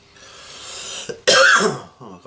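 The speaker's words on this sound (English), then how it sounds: "I've got a bit of a cough coming in." A man clears his throat and coughs while at a hobby workbench, a low rising rasp followed by one sharp, loud cough burst and a softer trailing clearing sound, close to the microphone.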